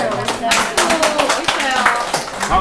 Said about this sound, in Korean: 아, 박수입니다.